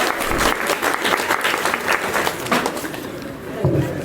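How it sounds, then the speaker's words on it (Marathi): An audience at a felicitation event bursts into applause, a dense, loud wash of clapping from many hands that holds steady and tapers slightly near the end. "त्यांच्यासाठी एकदा जोरदार टाळ्या होऊन जाऊ द्या"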